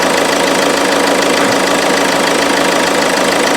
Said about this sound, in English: The engine is running very, very smooth